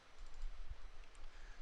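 Soft, quick key presses as an IP address is typed on a computer keyboard, a short faint burst of clicks in a quiet room with no voice.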